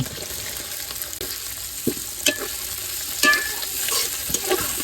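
Chopped ingredients and paste fry in a pan in a village kitchen, a steady sizzle broken by scattered scraping stir strokes and a few sharper clinks, moderately loud with no voices.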